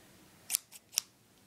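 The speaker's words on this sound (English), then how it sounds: "Cutting paper." Scissors snipping through wrapping paper for Christmas presents, two or three quick crisp cuts close up in a quiet room, no talking.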